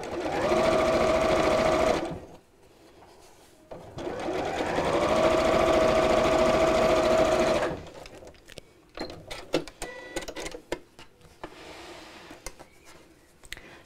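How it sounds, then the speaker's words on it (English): Sewing machine edge stitching fabric close to a seam in two sustained bursts of rapid, rhythmic mechanical clatter, each running a few seconds, followed by quieter clicks and fabric handling. "and then just edge stitch close to the seam"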